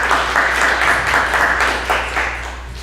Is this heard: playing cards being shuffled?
no